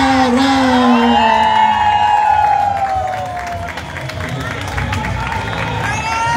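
A large outdoor crowd at a school generations parade for a secondary school in Jojutla cheers, whoops and applauds continuously, with shouting voices rising and falling and a brief tonal cry at the start, the roar easing slightly partway through.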